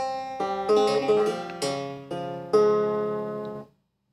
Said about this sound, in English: And now the ornamentation inserted.